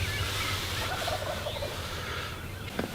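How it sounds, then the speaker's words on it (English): Wild turkeys gobble at a distance outdoors, a faint rattling gobble over quiet background ambience with a brief sharp sound near the end. "That's definitely both of them heard two different gobbles."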